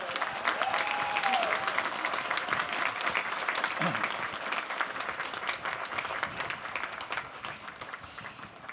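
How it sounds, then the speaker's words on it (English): At the 2022 Adrian College commencement ceremony, a large crowd applauds the students in a sustained, steady roar of clapping from a distance that slowly eases toward the end. "Please give these students a well-deserved round of applause"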